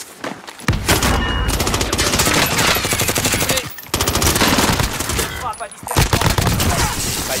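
Rapid automatic gunfire in the Warzone video game, with an AMP63 pistol and Grau rifle loadout, pounds almost nonstop at close range in loud, dense bursts broken by a few brief pauses.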